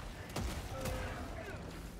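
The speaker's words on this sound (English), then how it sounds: "The auto cannon just came in handy." Auto cannon fire in a video game, a short burst of rapid heavy shots over game noise with a voice faintly underneath.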